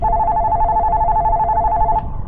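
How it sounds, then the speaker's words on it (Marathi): A telephone resting on a glass coffee table in a living room rings steadily in a repeating electronic trill, fairly loud and close, and cuts off just before the end. "समोरच्या काचेच्या टिपावर ठेवलेल्या फोनची रिंग झाली"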